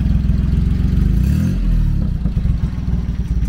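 A Hijet kei truck engine idles through a handmade exhaust in its quieter setting, a loud, close, pulsing putter that swells briefly as the throttle is blipped, then settles back into an even rhythm.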